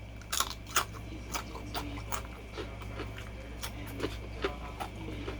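Crisp crunches of someone biting and chewing crunchy plantain chips, several sharp bites at irregular intervals over a low steady hum.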